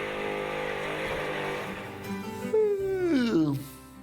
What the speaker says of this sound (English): 2015 Dodge Challengers you see out there spinning their tires